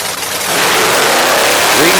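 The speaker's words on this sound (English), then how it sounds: "If you listen, you only hear 1 truck running." A monster truck engine roars loud and steady at a racing event in Durham, Connecticut, with a commentator talking over the constant broadband engine noise.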